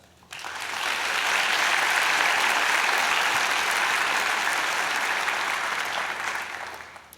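Graduates at a Mohawk College convocation clap together in sustained, loud applause that swells quickly, holds steady for several seconds, then tapers off.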